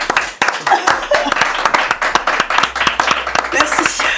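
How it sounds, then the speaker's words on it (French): A small group claps during a Christmas-special game show, with quick uneven hand claps mixed under lively overlapping talk for a few seconds. "applaudir Cyrielle, bravo."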